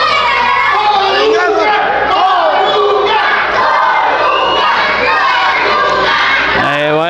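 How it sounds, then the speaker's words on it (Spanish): Lucha libre arena crowd in Toluca shouting and chanting in loud support of a masked wrestler, a dense, continuous wall of voices from start to finish. "Pide grito de apoyo el cariñoso a Pentagón"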